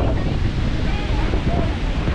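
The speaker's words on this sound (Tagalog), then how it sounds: "Ang lakas ng hangin, shit." Strong storm wind buffets the microphone at a beach, a loud roaring rumble blended with crashing surf, continuous and close, with a voice faintly mixed underneath.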